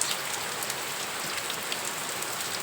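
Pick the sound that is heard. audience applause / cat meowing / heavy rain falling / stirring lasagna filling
heavy rain falling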